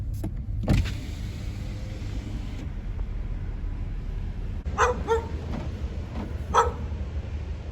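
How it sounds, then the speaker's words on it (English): A dog barks a few times from inside or beside a car during a restaurant delivery, the barks short and moderately loud over a steady engine hum, with a power window whirring early on. "Don't bark, dog."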